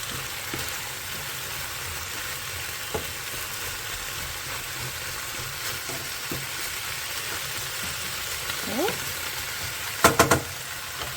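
Carrots and green onion stir-fry for a chicken dish with a steady, moderate sizzle throughout, and a few light utensil clicks and a brief clatter of stirring near the end. No one speaks.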